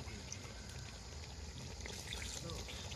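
Water poured into a pot of chicken curry (chicken kasha) as it cooks, a steady, faint liquid pour and gurgle running throughout with kitchen noise.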